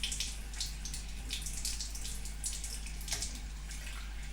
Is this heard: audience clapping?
no